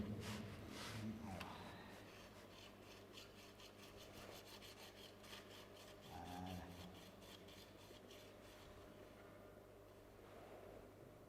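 Hand file rasping across metal, a steady run of rapid rhythmic scraping strokes that carries on for several seconds, close and fairly quiet, with a brief low voice near the start and another midway.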